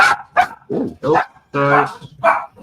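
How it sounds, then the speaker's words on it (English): A pet dog barks sharply several times close to a home microphone during an online video call, short loud yips and woofs interleaved with a person's brief spoken apologies. "It's not my dog."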